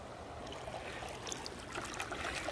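Water flowing steadily in a stream at a picnic spot, a continuous close bubbling and trickling wash that holds even throughout with no voices.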